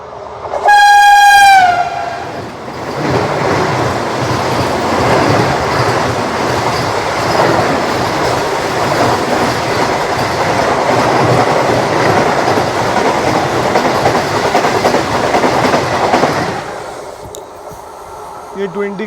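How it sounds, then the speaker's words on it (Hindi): A 20-coach CSMT–Solapur Vande Bharat Express passes close by, opening with a loud horn blast before a sustained roar and rumble of rolling coaches that lasts about fifteen seconds and then drops away abruptly. "इसी टाइम में हमारे सामने से क्रॉस होने वाली है CSMT सोलापुर वंदे भारत एक्सप्रेस"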